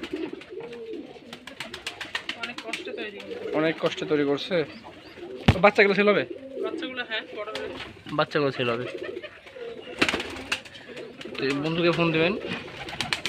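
Pigeons coo throughout a busy pigeon farm in Bangladesh, a steady murmur of calls heard beneath near, continuous talking by several men.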